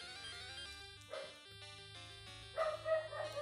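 A small pet dog barks several times over music from a Pokémon Crystal game, with brief yips near the start and louder bursts toward the end, fairly faint in the mix.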